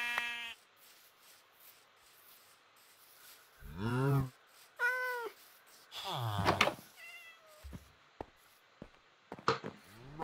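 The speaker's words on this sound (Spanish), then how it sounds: "Un gato." Several Minecraft cat meows ring out in short separate bursts over a quiet game background, fairly close and clear, with gaps of near silence between them.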